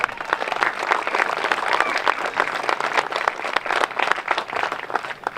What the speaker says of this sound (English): Please give Gretchen a round of applause